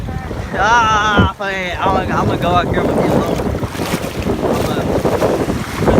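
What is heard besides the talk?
strong wind at the beach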